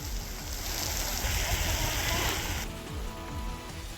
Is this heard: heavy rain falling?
yes